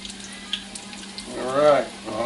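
Chicken sizzles steadily in hot oil in a pan while browning, a soft crackling hiss close by, with a brief voice over it.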